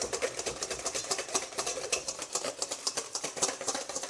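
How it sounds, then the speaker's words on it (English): A whisk beats hollandaise sauce over heat until it thickens like a sabayon, producing fast, steady rhythmic clicking and scraping against the bowl, heard close with no talk. "you just whisk it. When and you want to whisk it up like a sabayon."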